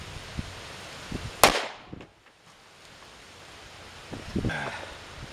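A 9mm Federal Tactical Bonded 124-grain hollow-point pistol round is fired into a gel test block: one sharp, loud report with a short decaying tail, followed by quieter outdoor rustling and a few faint knocks.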